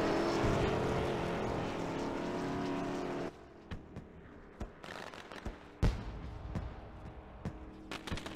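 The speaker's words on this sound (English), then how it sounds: "I gotta hear that engine audio here." Race truck engine from the Fast Track Sims Hardline Truck Series at Lucas Oil, a loud sustained drone that suddenly cuts out, leaving quieter sputters, clicks and thumps with one sharp bang near the end.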